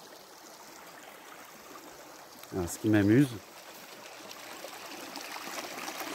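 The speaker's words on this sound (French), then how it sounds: "Et ce petit ruisseau, tout petit ruisseau minuscule là, que vous voyez, eh bien c'est le Lot." A tiny mountain stream at the source of the Lot river trickles with a faint, steady wash throughout, while someone speaks briefly in the middle.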